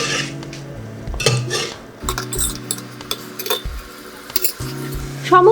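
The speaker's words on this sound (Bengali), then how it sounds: "এখন সমস্ত উপকরণ খুব ভালোভাবে প্রেশার কুকারের মধ্যে নেড়েচেড়ে মিশিয়ে নেব।" Metal spoon stirring khichuri ingredients inside a pressure cooker, scraping and clinking against the pot in irregular strokes, close and fairly loud with no talking.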